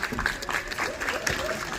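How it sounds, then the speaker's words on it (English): Steady applause from a crowd at Vancouver Aquarium, dense clapping throughout, with a voice faintly audible beneath it. "one big round of applause to our team of Marine Mammal Training"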